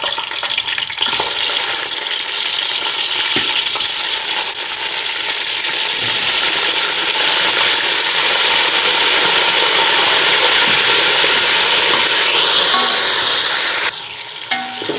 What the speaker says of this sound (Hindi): अभी हमने डाल दिए साथ में बीफ, अपने बीफ कबाब जो हैं इनको अच्छी तरह कर लेते हैं फ्राई।